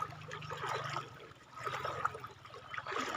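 Floodwater flows through a town during a flood, a soft low rushing and trickling of water with faint gurgles, fairly quiet and steady with no voices.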